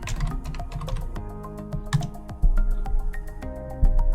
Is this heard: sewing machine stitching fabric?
no